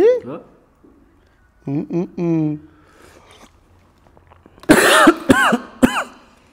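A person coughs and clears their throat in short harsh bursts after boiled beef catches in the throat, with a brief stretch of talking before and faint background noise between.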